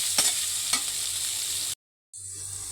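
Chopped onions and sliced chilies fry in a pan of oil for a poa fish bhuna, giving a steady close sizzle with a couple of stirring scrapes before a brief cutout, then the sizzle resumes.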